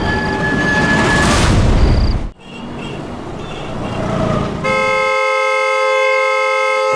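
A car horn blares non-stop at night, a loud sustained tone over constant background noise, cut off briefly and then resuming.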